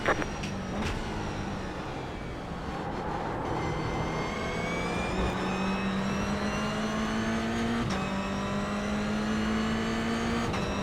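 A race car engine accelerates on a track, its loud whining tone rising steadily through several gear changes over about ten seconds, heard up close from the cockpit with no talking.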